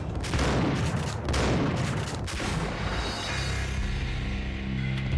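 Shotgun blasts and heavy gunfire in the video game Max Payne, loud and dense with repeated booming shots over a constant rumble of game noise.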